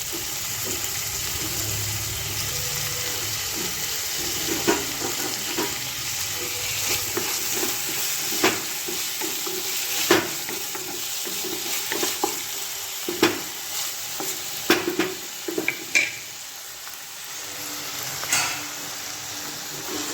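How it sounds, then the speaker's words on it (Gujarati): Two small tomatoes cook in a pan with a steady, loud sizzle and hiss, broken by occasional clicks and scrapes of a utensil being stirred through them. Nobody speaks. "હવે આપણે ટમાટરને કૂક થવા દઈશું"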